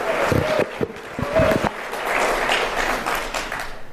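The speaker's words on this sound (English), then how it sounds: "Give ZeneFX a big round of applause." Audience applause at a tech conference talk, a brief burst of scattered claps that swells into a short round before fading, with a little crowd noise.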